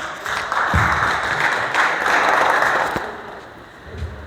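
Audience applause at a workplace Safety Day program, a broad wash of clapping that swells and holds, then thins slightly toward the end, fairly loud with no talk on top.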